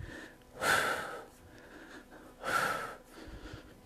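Two sharp, forceful exhales during a live workout twist, close and fairly quiet, spaced about two seconds apart with near silence between them.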